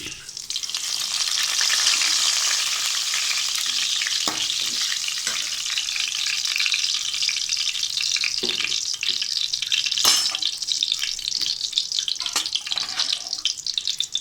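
Fennel seeds, a cinnamon stick, a clove and a bay leaf fry in hot oil, giving a steady, loud, close sizzle that runs unbroken throughout, with a few soft knocks and scrapes from a utensil partway through.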